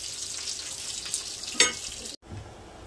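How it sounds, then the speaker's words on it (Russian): Potato vareniki boil in a pot of water, giving a soft bubbling sizzle with a few sharper clinks and splashes, close and steady, ending in a brief cut. "Все, уже вода у меня закипает с варениками."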